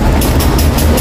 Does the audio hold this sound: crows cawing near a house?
no